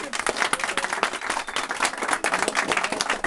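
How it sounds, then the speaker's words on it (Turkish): A small group of men clap for themselves at a retirement send-off, with dense, fast, close clapping running steadily throughout. "Kendinizi bir alkışlayın beyler."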